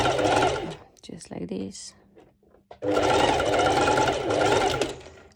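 Sewing machine running a straight stitch on a bikini top, two loud bursts of rapid stitching separated by a pause, with someone talking briefly in between.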